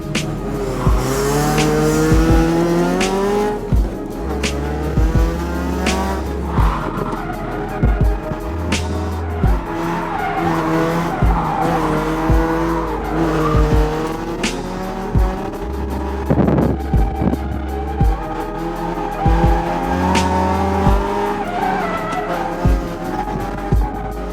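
A car drifting on Accelera PHI tires, its engine revving hard while the tires squeal in long, sustained bursts that repeat throughout, loud and close, with no talking.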